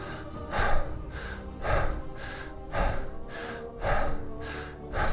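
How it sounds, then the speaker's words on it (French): Slow, deep breaths in and out during a guided meditation, about five audible cycles in a steady rhythm, close and clear with no talking. "On inspire, on expire."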